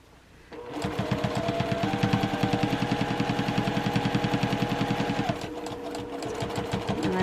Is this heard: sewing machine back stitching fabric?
yes